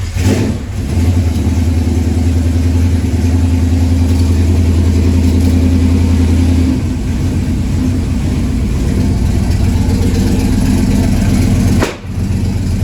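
A race car engine runs loud and close, holding a steady throbbing idle that shifts in pitch partway through, then cuts briefly near the end before picking up again.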